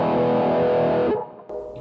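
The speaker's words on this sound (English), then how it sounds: "if we go on to the metal distortion" Electric guitar played through an Ammoon PockAmp headphone amp on its metal distortion setting, a thick saturated sustained chord ringing loud and alone, then cutting off into a brief fuzzy restrike.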